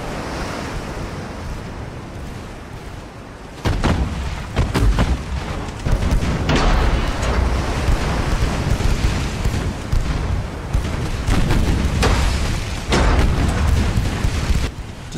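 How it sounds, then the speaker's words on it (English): Naval gunfire in a Ultimate Admiral Dreadnoughts battle between light forces: dense, continuous booming rumble with repeated loud gun blasts layered over a steady wash of ocean-like noise, intensifying after the first few seconds. "there's a fierce gun battle here between the light forces"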